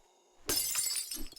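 Glass shatters in a video game with a sudden bright crash, and fragments tinkle and scatter for about a second afterward, with no speech over it.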